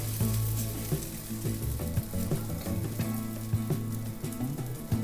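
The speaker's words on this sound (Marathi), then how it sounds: "हे पहा बघा मी तवा ठेवलाय, गरम झालाय, मी टाकून घेते तव्यावर" A fasting thalipeeth paratha sizzles loudly on a hot griddle, a dense, continuous crackle close at hand with a low steady hum underneath.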